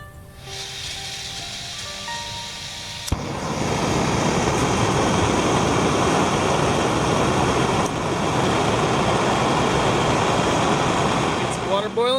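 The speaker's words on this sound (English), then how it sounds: "let's fire up the camp stove and get some dinner cooking" A camp stove burner ignites with a sudden pop and then roars steadily, a loud, broad hiss that holds for several seconds outdoors on a kayak camping trip, with a voice talking briefly before it lights.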